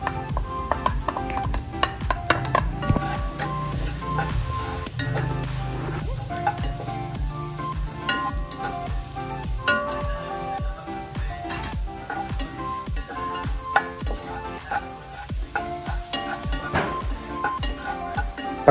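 Onion fries in a pan, crackling and sizzling continuously up close, with stirring and occasional clinks of pan and utensil.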